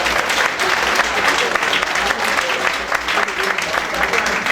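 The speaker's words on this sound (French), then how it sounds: "nous pouvons mettre les mains ensemble pour nous chaudement applaudir" Audience applauding warmly at a church gathering, dense steady clapping that holds loud and even from start to end with a faint voice underneath.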